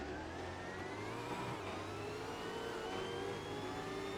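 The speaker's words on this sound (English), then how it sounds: "Got a pretty decent launch actually by Assetto Corsa standards" A V8 Supercar launches from the grid in the racing game Assetto Corsa at Hidden Valley, Darwin, with a loud, continuous engine roar that climbs steadily in pitch as the pack accelerates away, with no talk over it.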